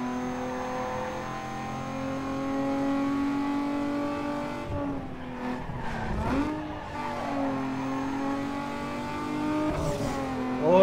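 Race car accelerating hard in the video game Need for Speed Underground 2, a steady engine drone climbing through gears with brief tire skids and squeals mid-run, loud and continuous throughout.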